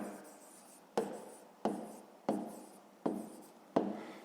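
A pen writes on paper while working a fifth-grade maths exercise: five short, distinct scratching strokes in an even rhythm, close and quiet, with no talking.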